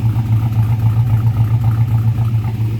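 A carbureted LS 5.3 V8 running on its stock PCM idles close and loud, a steady deep rumble with a faintly lumpy, even pulse and no voices.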